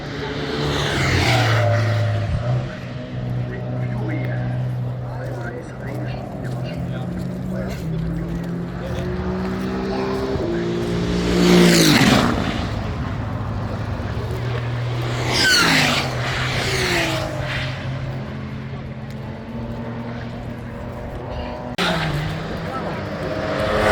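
Porsche cars driving past at the Nurburgring, engines rising and falling as they pass with occasional sharp roaring sweeps, heard over steady wind and road noise, with someone talking throughout.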